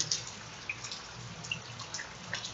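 Heavy rain runoff pouring off a field and rushing down a dry street at night, a steady broadband wash of flowing water with scattered drips and splashes, continuous and fairly close.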